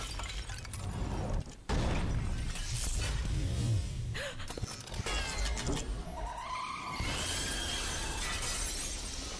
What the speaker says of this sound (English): This is the Songbird coming and looking for Elizabeth.